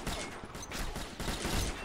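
Rapid bursts of gunfire from the video game Combat Arms with an SR25 semi-automatic rifle, repeated shots in quick succession, loud and close, with no talk.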